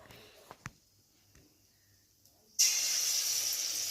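Pitha batter hits hot oil after a few quiet clicks, bursting into a loud, steady close hiss of frying that holds to the end.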